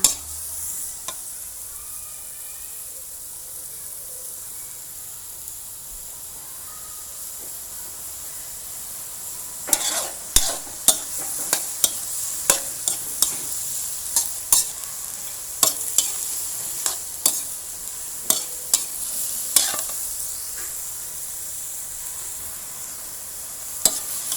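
Lotus stems are stir-fried with oyster sauce and a little water in a pan: a steady sizzling hiss, then a quick run of rhythmic spatula scrapes and taps through the second half, with no voices.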